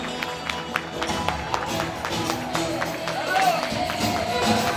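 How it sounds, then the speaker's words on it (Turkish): Audience clapping fills a music hall, steady scattered claps with sharp individual hits running throughout, fairly close and loud, with a tonal hum underneath. "Alkışlar susmuyor."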